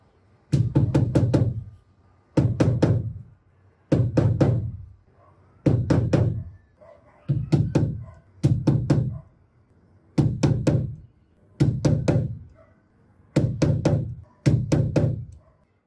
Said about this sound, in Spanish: En este caso nos damos la ayuda de una gubia.